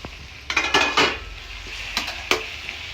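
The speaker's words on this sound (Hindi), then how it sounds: "अभी हम इसमें डालेंगे टमाटर, ये डाल दिया हमने टमाटर चॉप किए हुए।" Chopped tomatoes go into a pan of golden-brown fried onions, with metallic scraping and stirring clatter against the pan and a soft sizzle underneath, loud and close, with no talk.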